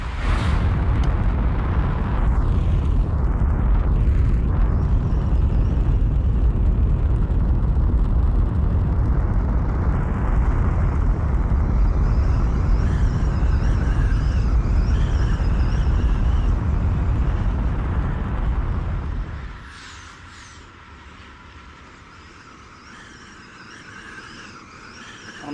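Glider aircraft taking off in the VR flying game Ultrawings: a loud, steady engine roar holds for about twenty seconds, then cuts abruptly to a quieter hum.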